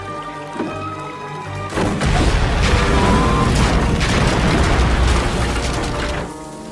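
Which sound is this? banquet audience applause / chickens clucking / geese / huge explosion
huge explosion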